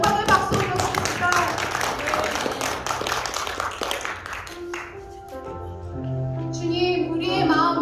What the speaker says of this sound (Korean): 우리 주님께 영광의 박수 올려드립니다